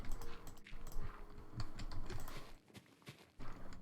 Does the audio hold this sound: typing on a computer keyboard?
yes